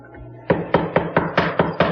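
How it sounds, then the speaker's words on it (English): A dedicated mortiser drives its chisel and drill bit into wooden legs for a butterfly table. Seven sharp, evenly spaced chunking strokes come about four per second, loud and close, after a faint motor hum. "we like to make the mortises with our dedicated mortiser"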